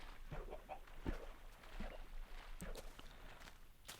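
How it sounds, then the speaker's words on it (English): Minecraft chickens cluck softly in short, scattered bursts, mixed with light footstep sounds from the game and faint background noise. "Hello, chickens."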